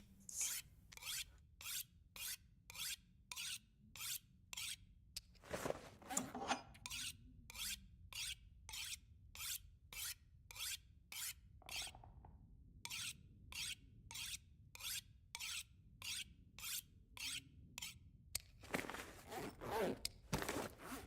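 A knife being repaired in The Long Dark: a steady run of short rasping file strokes, about two per second, dry and close, with a few brief louder scrapes and no talking.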